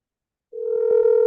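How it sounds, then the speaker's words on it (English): A telephone ring tone heard on an outgoing call-back, a steady sustained tone starting abruptly after half a second of silence and holding at moderate level, with no voices. "So I'm just returning this call, but caller is not picking up just yet."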